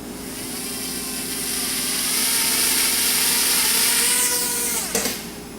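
A Sharper Image DX-2 stunt drone flies nearby, its rotors giving a steady high-pitched whine that rises in loudness, followed by a brief sharp change in pitch near the end.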